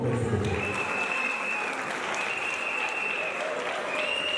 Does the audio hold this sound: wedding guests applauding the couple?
yes